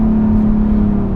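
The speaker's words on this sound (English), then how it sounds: "there is like a little bit of drone from the engine, and the engine itself seems like pretty noisy versus the premium segment" Loud, steady low engine drone from a 2016 Infiniti QX60 3.5 AWD under acceleration, heard from inside as a continuous humming tone that fills the whole moment.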